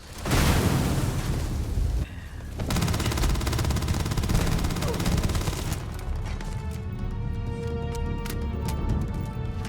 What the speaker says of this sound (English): let's chuck a nade